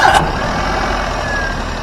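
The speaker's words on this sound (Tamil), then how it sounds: "வாங்க வண்டியோட இன்ஜின் சவுண்ட் எப்படி இருக்கு அப்படின்றத கேட்போம்." A single-owner Maruti Alto petrol car idles with a quiet, steady low engine hum, preceded by a brief high beep at the start.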